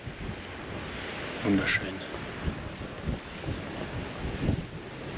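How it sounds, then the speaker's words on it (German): Gusty mountain wind buffets the microphone in low rumbling bursts during a road bike ride, with a brief spoken word partway through. "Ist ein bisschen windig vielleicht"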